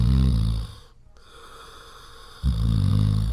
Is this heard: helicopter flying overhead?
no